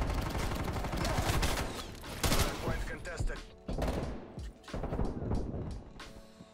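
Rapid gunfire and bursts from an automatic rifle ring out in the video game Call of Duty Cold War, loud dense volleys with brief pauses between, thumps and booms mixed in.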